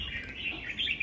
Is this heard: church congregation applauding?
no